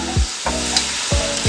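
Two sliced potatoes fry in a pan of oil for pork belly kaldereta, a steady close sizzle broken by a few scraping stirs of a utensil against the pan.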